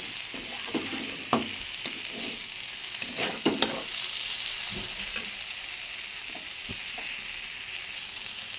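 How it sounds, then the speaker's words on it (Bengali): Spiced potatoes and pointed gourd sautéing in a pan, a steady sizzle of frying with scattered scrapes and clinks of stirring, close and moderately loud, no talking. "সব মশলাটা দেওয়ার পরে দেখো আমি সুন্দর করে এটাকে কষিয়ে নিচ্ছি"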